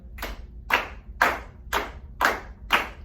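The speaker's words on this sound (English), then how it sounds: "Clap for me." A group of students in a music lesson clapping hands together in time to a six-note rhythm. Six crisp, evenly spaced claps sound about half a second apart, close and moderately loud, with no talk between them.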